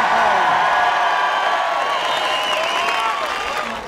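Large crowd applauding and cheering at a political leadership campaign rally, a dense sustained roar of clapping and whoops that holds steady and fades slightly toward the end, with some voices mixed in.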